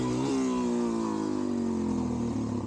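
A Suzuki DR-Z400SM motorcycle fitted with a 12-tooth sprocket holds a loud, close, steady rev, its engine note rising slightly at the start and then staying level throughout.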